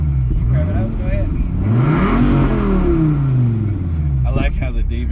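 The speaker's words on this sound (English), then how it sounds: "Man, you rev it up, go ahead." A Dodge Viper engine revs hard nearby, loud rising and falling roars with a deep harmonic growl that climbs in pitch, as people talk over it.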